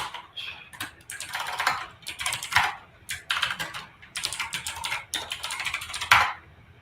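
Rapid bursts of typing on a computer keyboard during a network penetration test, clattering keystrokes in quick clusters with short pauses, close and fairly loud with no talking.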